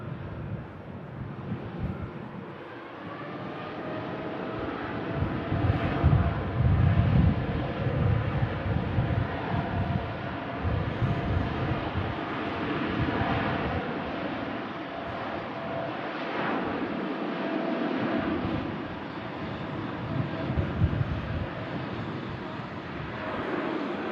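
An airliner departs from runway 23 left at Manchester Airport, bound for Doha. A distant, broad engine roar rises and swells for over twenty seconds, with gusty wind buffeting the microphone.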